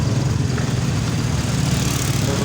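A truck on a town road near an old Dutch-era sugar factory, heard up close as a loud, steady low engine rumble that fills the whole moment without a break.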